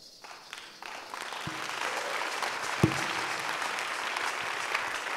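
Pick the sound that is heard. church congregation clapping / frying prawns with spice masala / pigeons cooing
church congregation clapping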